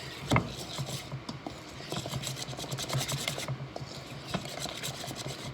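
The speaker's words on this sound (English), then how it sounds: "You don't really need a mixer because I just use the whisk and it works great." Cornbread batter whisked by hand in a bowl, a steady scraping and stirring rasp with quick repeated strokes, close and moderately loud, with no talking.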